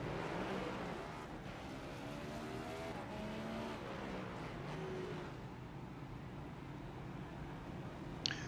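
Race cars circling Martinsville Speedway in a racing video game: a continuous, dense engine roar from a pack of cars at steady loudness, with shifting engine tones layered together and no talk over it.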